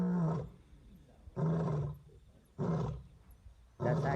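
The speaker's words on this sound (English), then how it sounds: "when you wake up during the middle of the night and you hear a lion roaring" A lion roars at night in South Africa, right outside a door in its territory, with four loud, deep calls evenly spaced about every 1.2 seconds and a rumbling tail after each one.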